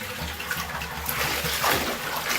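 A Kohler Trent bucket toilet flushing plain warm water, a close, steady rush and trickle of water through the bowl that swells slightly toward the end.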